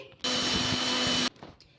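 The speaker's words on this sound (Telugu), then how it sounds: "ఇప్పుడు మెత్తగా మిక్సీ అయితే పట్టేసుకోవాలి ఈ రవ్వని సేమ్యాని" A kitchen mixer grinder whirs loudly in one steady burst of about a second as it grinds semolina and vermicelli to powder, then stops abruptly, leaving quiet room noise.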